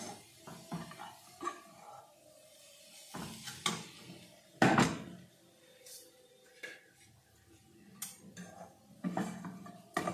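Gujia filling scraped from a frying pan into a separate vessel, with scattered clinks and scrapes of a spoon against metal at close range and a few louder knocks, over a quiet background.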